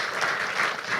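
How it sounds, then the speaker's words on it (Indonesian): Audience applause at a Tribun Academy digital literacy event in Indonesia, a short steady burst of clapping from a seated crowd, fairly even in loudness with no talk over it. "Boleh minta tepuk tangannya Bapak Ibu sekalian?"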